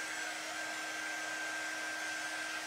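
A hair dryer blows steadily on a craft piece, its constant whooshing whine running unbroken and close throughout with no pauses.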